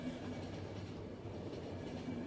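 Steady rumble of a train in The Final Station video game, a continuous low rolling drone with faint clickety-clack, moderately loud and constant throughout with no voices.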